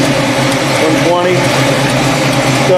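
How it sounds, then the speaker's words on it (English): Electric radiator cooling fans run on a car fitted with an Alloy Works aluminum radiator, making a loud, steady broadband whir throughout while a person talks over it. "So the fans are on, so that tells me at least that the thermal switch is working."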